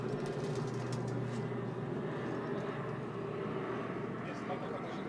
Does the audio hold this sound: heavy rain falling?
no